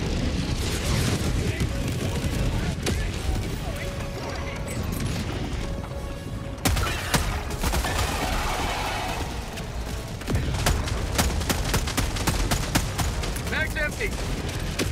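Constant chattering gunfire and a deployed sentry turret in a Helldivers 2 Super Helldive mission, dense rapid bursts and booms running throughout, with voices calling out now and then.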